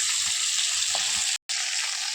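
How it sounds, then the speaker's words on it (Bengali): Marinated koi fish sizzling in hot oil in a wok, a continuous close hiss with soft popping, interrupted once by a short silent drop-out. "মাছটা খুব সুন্দরভাবে ভেজে নিচ্ছি লাল লাল করে।"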